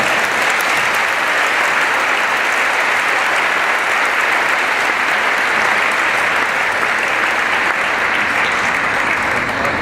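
A church congregation applauds in praise, a dense, loud and steady wash of clapping that fills the whole stretch without a break.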